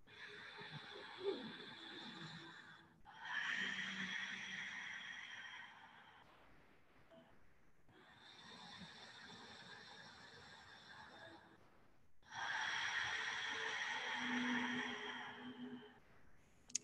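Ujjayi yoga breathing demonstrated, the ocean-like audible breath of a deep sleeper just before a snore: three long, steady hissing breaths alternating inhale and exhale, close and fairly quiet, with short pauses between.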